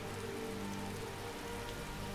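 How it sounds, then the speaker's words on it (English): Steady rain falling outdoors in the Skyrim video game, a constant even hiss of drops with no other sounds over it. "Well, let's step inside out of the rain."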